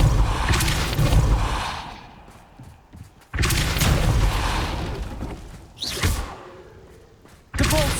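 A Depulso spell from Hogwarts Legacy lands as heavy thudding blasts, with a few loud booming impacts separated by short quieter stretches of rumble.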